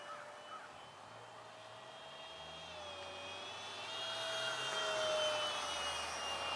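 A Stinger 64 RC car runs at full speed, its high motor whine rising gradually in pitch and loudness as it accelerates, heard alone without talk.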